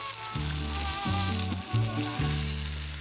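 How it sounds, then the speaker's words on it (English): Meat sizzling in a frying pan, a steady hissing crackle up close, with a low musical tone pulsing underneath in repeated short phrases. "Nice little sizzle."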